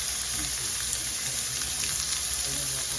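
Sausages frying in a pan give off a steady, close, dense sizzle with fine crackling throughout, no voices over it.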